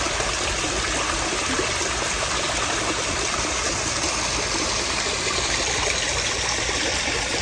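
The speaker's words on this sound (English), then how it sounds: "Oh, waterfall is back up and running." Steady, broadband rush of a small garden koi pond waterfall splashing continuously, close by, with no voices or other sounds.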